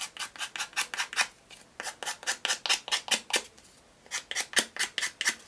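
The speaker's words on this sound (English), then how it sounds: "you're going to go back with your nail file" Rapid back-and-forth rasping of a nail file sanding the edge of paper on a wooden ornament, about twenty close, even strokes in two bursts with a brief pause between, loud and alone.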